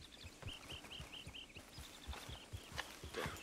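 Steady clip-clop of horse hooves at a walking pace in a video game, with faint high bird calls chirping in the background.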